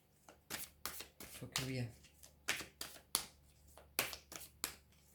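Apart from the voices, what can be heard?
drawing and shuffling tarot cards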